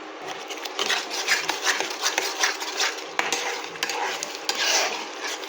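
A spoon stirs a cashew mixture in a cooking pan, making soft repeated scraping and clinking strokes in a quick, uneven rhythm. Low sizzling sounds faintly underneath.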